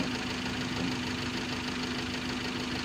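A car engine idles steadily, a car whose radiator reservoir tank is spurting or overflowing, giving a continuous low hum with a faint rhythmic knock and no voices.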